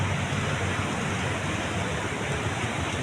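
The swollen Marikina River rushes during a storm as a dense, unbroken roar of water, loud and close, with no break or talk.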